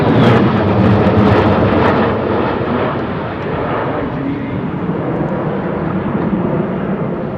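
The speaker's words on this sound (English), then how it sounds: "Great to see the F35 coming in." An F-35B fighter jet comes in at the Farnborough International Airshow, a loud, broad, sustained engine roar that stays strong throughout, with a faint voice under it.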